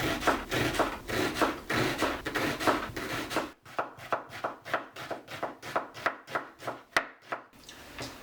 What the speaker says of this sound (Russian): Это сейчас нарезаем тоненько на обжарку.